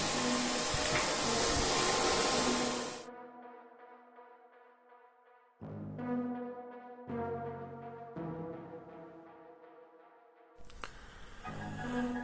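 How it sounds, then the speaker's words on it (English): MIG welding with a Stahlwerk MIG200ST welder at about 150 amps and 18.5–19 volts with a low wire speed: loud, harsh crackling bursts open and close the stretch, with a steadier humming tone in between and no talking. "first couple of welds with the new welder from Stahlwerk"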